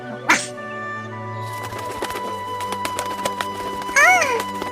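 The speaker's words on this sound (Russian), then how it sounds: "а на деревьях наверху все время слышу то ку-ку, а то кар-кар и чик-чирик" Birds call and chirp among the trees, a brief sharp call near the start and warbling chirps later, over a steady hum and light background noise.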